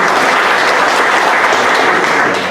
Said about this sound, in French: pour vous demander d'applaudir bien fort pour le courage